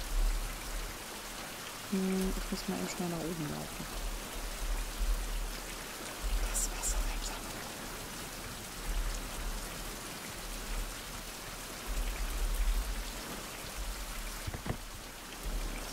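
Steady rain patters across a surface in the survival game Fountain of Youth, a constant soft hiss throughout with a brief spoken line early on.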